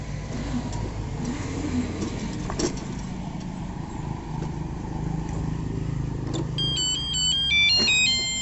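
An electric cycle rickshaw with a 1000 watt motor pulls away outdoors, a steady mid-pitched hum and road rumble under constant noise, with a melodic electronic tone chiming near the end.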